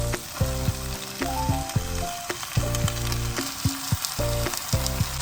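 Potatoes added to hot oil with fried onion and green chillies sizzle loudly and steadily, with repeated stirring scrapes and a tonal hum beneath, and no one speaks.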